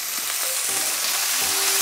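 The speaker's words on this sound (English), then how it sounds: "when it is really hot, we can place our beef in it. Listen out for that sizzle." Beef strips for Szechuan beef sizzle loudly in a very hot wok, a steady close frying hiss with small crackles and brief tonal squeaks as the meat hits the oil.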